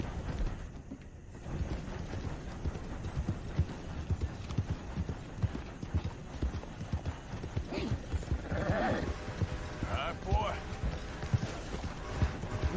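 A horse's hooves clip-clop in a steady rhythm in the Red Dead Redemption II video game, close and clear under someone talking, with a short whinny partway through.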